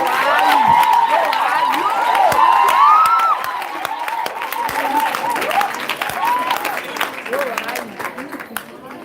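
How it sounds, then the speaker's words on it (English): Sustained applause from a large audience at a book launch, loud and dense, with cheering voices and a whistling call riding over the clapping before it eases slightly but continues steadily. "A big round of applause."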